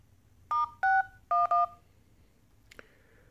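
Touch-tone dialing beeps from a Motorola Droid Turbo placing a test call to customer service: four crisp, evenly spaced tones, then a short higher chirp, all clear and alone against quiet.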